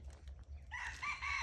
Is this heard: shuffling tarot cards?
no